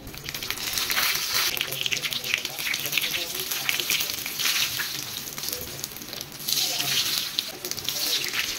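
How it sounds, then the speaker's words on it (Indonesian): Pindang fish fritters (bakwan) deep frying in hot oil, a steady dense crackling sizzle running throughout with some faint background voices. "sekarang tibalah saatnya untuk fry sound mendengarkan suara-suara indah yang ada di dalam pawon"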